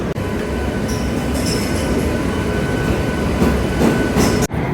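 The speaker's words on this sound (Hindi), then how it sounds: "वैष्णो देवी कटरा स्टेशन वाली उत्तर संपर्क क्रांति एक्सप्रेस है ये, जो अभी आई है और इसे प्लेटफॉर्म से हटाया जा रहा है।" Uttar Sampark Kranti Express from Vaishno Devi Katra pulling out of a station platform, a loud steady rumble of rolling wagons with faint wheel squeal and brief hiss, continuous throughout and close by.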